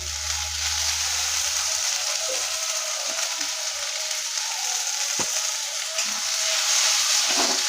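Onion, tomato, ginger paste and green chili frying in a pan give a steady, close hiss of sizzling oil that runs throughout, with a few faint clicks and knocks and no talking.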